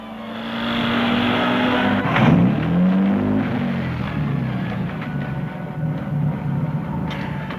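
A 1940s car drives close by, its engine note climbing and then settling into a steady run, with a rough rumbling drone over a short stretch of road.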